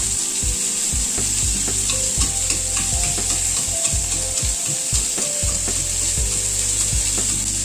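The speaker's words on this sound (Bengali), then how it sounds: "গ্যাসের ফ্লেমটাকে কম করে ধীরে ধীরে একটু লাল করে ভেজে নেব" Eggplant fries slowly in oil over a low gas flame, giving a steady soft sizzle broken by frequent rhythmic scrapes and knocks of stirring.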